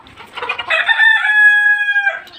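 A young rooster kept on a balcony crows once, loud and close. A rough start swells into a long, sustained tonal call that breaks off near the end.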